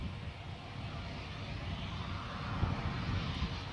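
A Dornier 228 twin-turboprop takes off at Guernsey Airport. Its engines make a steady, distant broadband roar that holds at moderate loudness for the whole stretch, with no voices.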